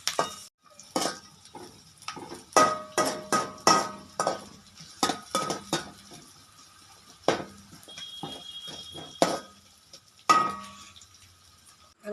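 Onions being stirred and sautéed in a pan, with repeated metallic scrapes and clinks of a spatula against the cookware in an irregular rhythm, close and fairly loud, no talking.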